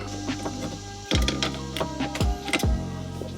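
In a Honda Civic EG with a swapped-in K20 engine, the fuel pump primes when ignition power comes on, giving a close mechanical whir that surges into several brief buzzing and clicking bursts over a steady hum.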